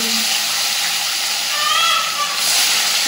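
Fish pieces fry in very hot oil, giving a loud, dense hiss that stays steady across the short stretch, with a faint rising whistle-like tone partway through.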